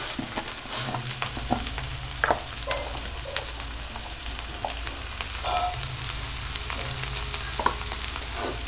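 Soybean chunks fry in a hot pan for an egg and soybean curry, giving a steady, close sizzle and crackle with occasional clicks of stirring and no voices.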